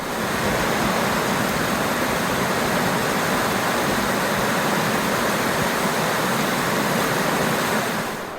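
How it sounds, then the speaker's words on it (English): River water rushing past a New England campground campsite, a loud, steady broadband roar of flowing current that fills the whole stretch without pause and without voices. "the water's flowing good. It's flowing real good here."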